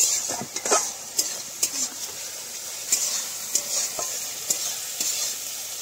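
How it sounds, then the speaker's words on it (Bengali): Masala spices sizzling in oil in a pan over a clay village stove while a spoon stirs and scrapes, with steady frying hiss and irregular close metallic clinks, no voices. "আমরা আরেকটু নাড়িয়ে চাড়িয়ে নেব যাতে ভালোভাবে মিশ্রণটা হয়।"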